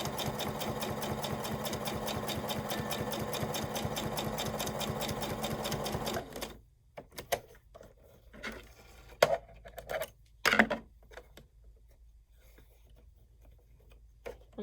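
A sewing machine runs in one steady, continuous burst for about six seconds as the two sides of a fabric bag are hemmed, then stops, leaving quiet handling and a few soft knocks.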